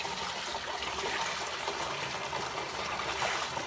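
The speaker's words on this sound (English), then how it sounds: "we're just going to add that cold water to the fermenter" Cold water pours into a home-brew fermenter for a brown bitter beer, giving a steady, hissing splash of flowing liquid with no talk.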